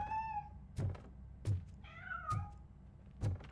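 A cat meows several times in RoboCop: Rogue City, with short melodic calls between soft dull thumps, close and clear with no talk.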